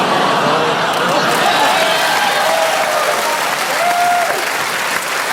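Studio audience on a TV comedy panel show bursting into steady, dense applause, loud and close, sustained for several seconds with some cheering mixed in.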